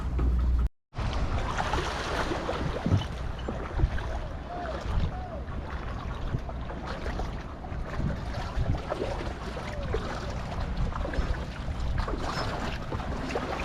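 Fishing boats on the Java Sea, each driven by two diesel engines, putter steadily in the distance under wind and water noise, a continuous low drone throughout.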